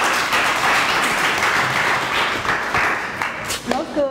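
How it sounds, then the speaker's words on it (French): An audience at a youth leadership training in Bujumbura applauds in a dense, steady burst for about three and a half seconds, then it thins out as a voice begins speaking at the end. "Est-ce que vous pouvez encore applaudir?"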